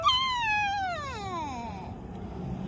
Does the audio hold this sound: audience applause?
no